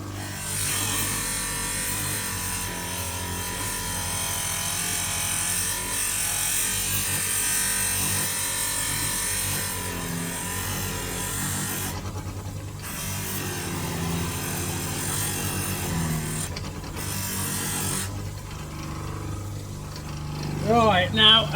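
A power polisher runs steadily for about twenty seconds, buffing Harley-Davidson fork legs with polishing compound. The whine holds a loud, constant drone with a few brief dropouts, and a voice talks over it.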